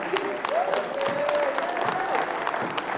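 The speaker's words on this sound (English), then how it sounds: "Give him a big clap." A church audience gives a big clap, a steady wash of crowd applause with a sustained voice or instrument tone gliding above it, moderately loud throughout three seconds.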